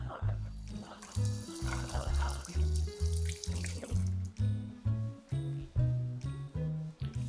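A kitchen tap runs over fresh leaves being rinsed in a sink, a loud splashing stream broken into repeated bursts as the leaves are moved under it, with no voices over it.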